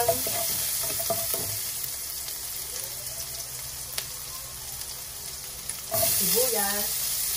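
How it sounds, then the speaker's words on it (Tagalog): Garlic sautéing in cooking oil in a pan for Filipino bean sprout lumpia, a steady close sizzle and frying hiss throughout, with a few soft stirring knocks early and a louder surge near the end. "saute na natin ang ating garlic"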